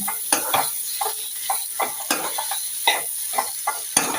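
Boiled potatoes are stirred into a masala dosa filling with carrot in a pan: rhythmic scraping and tapping strokes about twice a second over a faint sizzle, close by, with no talking.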